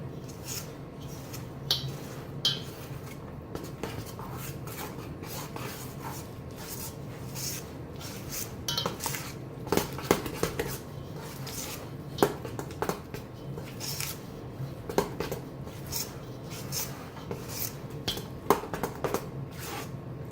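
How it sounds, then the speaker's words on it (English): A soupy whole wheat and flax seed meal bread mixture being stirred in a bowl, soft wet squishing and scraping strokes repeating steadily at close range. "And give it a stir. This is kind of a soupy mixture at this phase."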